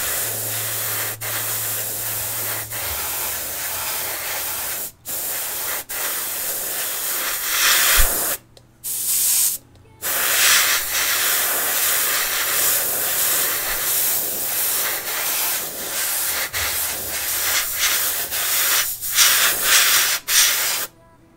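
An airbrush sprays paint with a steady, close hiss in bursts separated by short breaks, used on a Tamiya Volvo FH12 1/14 scale RC truck kit, with no talking.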